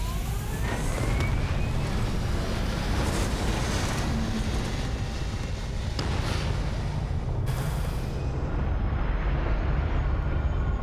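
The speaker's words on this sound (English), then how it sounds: "let's see how this takeoff sequence goes here with the old Dark Star. We have liftoff." A Star Eagle spaceship, upgraded with an AvonTech mod, takes off in a video game with a loud, sustained engine roar and rising whine that thins out abruptly near the end.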